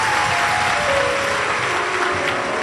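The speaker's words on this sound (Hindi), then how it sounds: "एक बार जोरदार ताली बजाकर स्वागत करें।" Loud applause from a large audience at a Shiv Mahapuran religious discourse gathering, a dense continuous wash of clapping with a faint tonal hum underneath, steady throughout.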